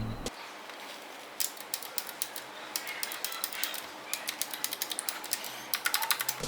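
Rapid clacking keystrokes on an Armaggeddon SMK-6C mechanical keyboard, close and crisp, in irregular bursts that speed up toward the end.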